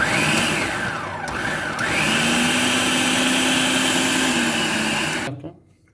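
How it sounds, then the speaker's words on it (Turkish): A Siemens MK3501M food processor chopping onion whirs loudly and steadily for several seconds, its pitch shifting as it works, then spins down and stops. "Evet soğanı doğradı gayet güzel bir şekilde."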